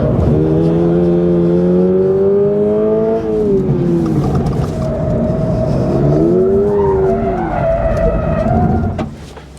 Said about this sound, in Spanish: fijaros qué trompo he hecho